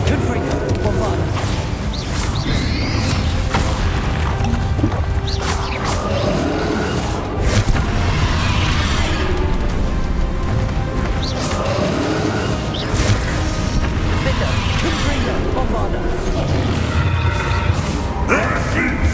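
Bombarda and Confringo spells in a Hogwarts Legacy duel erupt in a dense run of loud booms, crashes and thuds, layered with ongoing combat clatter and whooshing effects for nearly twenty seconds.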